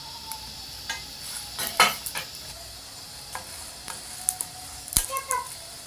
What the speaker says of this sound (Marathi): आता हा सर्व मसाला आपण व्यवस्थित भाजून घेऊया।